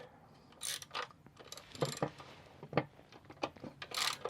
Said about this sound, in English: I'm just taking my last two bolts out now